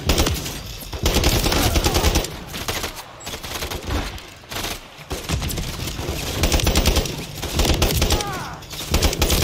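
Sustained gunfire from Modern Warfare 3, dense machine-gun bursts and fusillades in loud, close runs with brief pauses, with occasional voices under the shooting.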